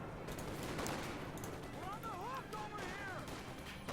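In the video game Company of Heroes 2, .50 cal machine guns rattle continuously amid other gunfire, loud and dense through the whole stretch, with scattered battlefield noise and voices talking over it.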